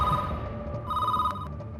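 A telephone rings with a steady electronic bell tone in two bursts, loud and close, with no one talking over it.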